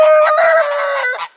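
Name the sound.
rooster crowing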